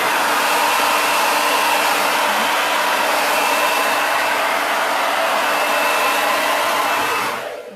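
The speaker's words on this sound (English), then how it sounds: "I'm going to give that a 2-second blast of the hairdryer" A hair dryer blasts steadily and loudly at close range while drying candle paint on a plate, a continuous broadband roar that holds for about seven seconds before cutting off.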